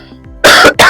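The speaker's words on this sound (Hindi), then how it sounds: "खांसी की बात" A person coughs twice in quick succession, loud and close, after a faint throat noise.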